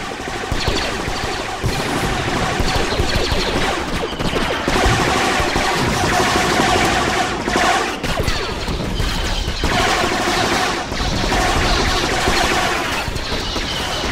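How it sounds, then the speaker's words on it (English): Continuous dense gunfire from Star Wars Battlefront, rapid blaster shots and crashing impacts layered into a loud, unbroken barrage lasting the whole stretch with no pauses. "I started shooting at you."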